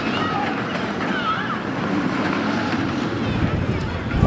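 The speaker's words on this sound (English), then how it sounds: "It's getting a bit windy there, a little bit cold today," Blustery, chilly wind buffets an outdoor microphone at Kolmården zoo in Sweden, making a continuous broadband rush and rumble with faint background sounds mixed in.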